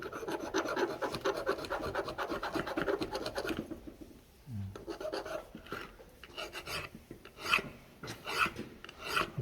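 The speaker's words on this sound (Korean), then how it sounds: "아주 줄질을 꼼꼼하게 잘해야 돼요." A hand file rasps steadily across a milled metal workpiece in long, close, rhythmic strokes. There is a short pause near the middle, then the filing resumes in quicker passes.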